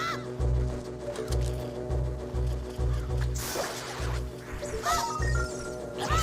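A bird clucking in Zelda Ocarina of Time on 3DS, with repeated short clucks and squawks over a looping game soundtrack of steady low pulses and tones, moderately faint.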